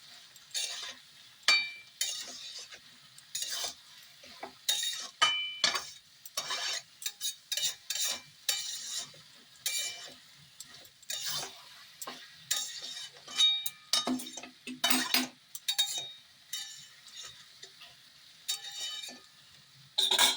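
A spoon scraping and clinking in a pan as a dry potato and soybean poppy seed dish is stirred, irregular close taps and scrapes over a long stretch, with soft rustling of the mixture in between and no voices.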